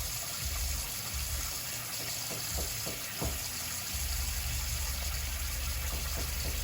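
Dishes being washed in a sink of hot dishwater, with a steady watery rush and a few short clinks and splashes in the middle, close and continuous with no talk.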